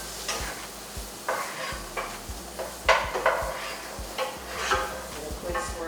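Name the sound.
rice sizzling in butter in pan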